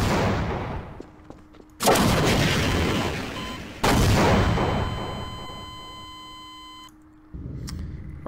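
Rocket launcher fired in the game Half-Life, two loud booming launches followed by rushing, decaying blasts, with steady electronic tones underneath and a final sharp burst at the end.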